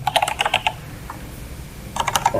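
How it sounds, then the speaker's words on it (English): Quick bursts of typing on a computer keyboard while entering code, a flurry of clicky keystrokes, a pause with a single tap, then another rapid run of keys, close and clear. "I type my name here"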